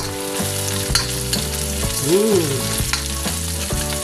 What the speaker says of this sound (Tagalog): lalagyan ko pa siya ng toasted onion and also toasted garlic. Haluin ko.